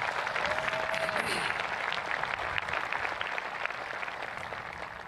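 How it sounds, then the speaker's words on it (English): A large crowd at the Eastmont High School Class of 2021 graduation claps steadily for the graduating class, a continuous roar of applause that slowly fades near the end, with voices mixed in. "Let's give them a round of applause for that."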